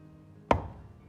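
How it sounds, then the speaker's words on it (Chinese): A single sharp cleaver chop severs a fresh young rooster's wing on a cutting board, one loud close thwack with a short ringing decay, no voices. "先剁下鸡翅"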